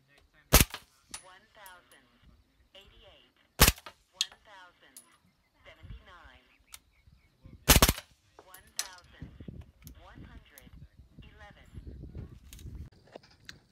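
Ruger rimfire rifle firing SK Standard Plus ammunition outdoors, three sharp loud cracks spaced a few seconds apart, with people talking between the shots.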